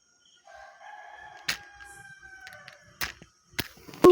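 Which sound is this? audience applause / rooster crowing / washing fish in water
rooster crowing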